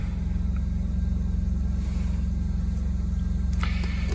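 A Coachmen Nova RV generator runs steadily after starting, a loud, constant low engine drone with an even pulsing hum and no speech over it.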